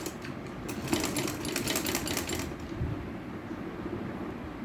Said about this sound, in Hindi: यहाँ पे स्टिचिंग कर लूँगी